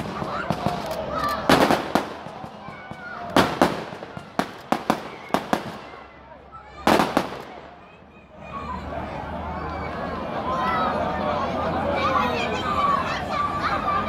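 A 16-shot fireworks cake fires a rapid series of loud bangs in several bursts at a fireworks demo, followed by crackling and a crowd chattering in the background.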